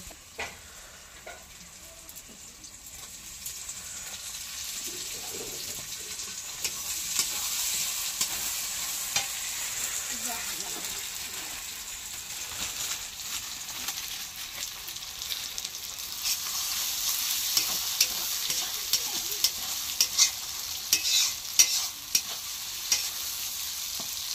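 Tomatoes fry in a pan in a village kitchen while being stirred, a soft continuous sizzle that builds gradually and carries many small scraping strokes.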